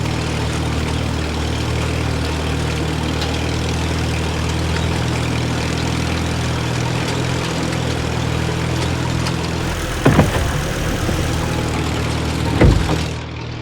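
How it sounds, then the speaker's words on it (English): Rattling vehicle engine in the video game Titan Chaser, a steady, dense low drone with a buzzing rattle running continuously, broken near the end by a couple of brief louder knocks. "we also don't have to listen to the constant rattle of this thing's engine"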